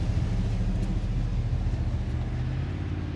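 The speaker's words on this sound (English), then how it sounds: "There's a car coming by" A car rumbles close by at night with a low, steady engine drone and road noise that stays loud for a few seconds, then eases slightly.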